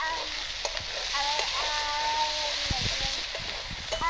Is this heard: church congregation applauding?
no